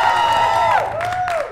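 An improv comedy audience votes by clapping and cheering, a dense crowd roar with high whoops and yells sustained loudly throughout the short burst.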